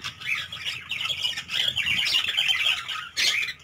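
A mixed colony of cockatiels, zebra finches, Java sparrows, lovebirds and budgies squawks and chatters continuously, a dense, busy chorus of shrill calls close by.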